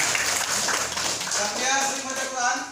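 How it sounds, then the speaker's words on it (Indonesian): Junior high students in an Islamic religious education class clap their hands together in a dense, sustained burst lasting a few seconds, with voices mixed in. "Tepuk tangan."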